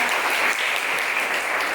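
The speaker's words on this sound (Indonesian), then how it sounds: "Tepuk tangan untuk Tuhan" Steady, dense applause from a church congregation during an Indonesian sermon, filling the whole stretch at an even, loud level with no voices on top.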